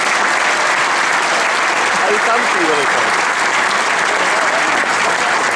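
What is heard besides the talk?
spectator clapping at snooker championship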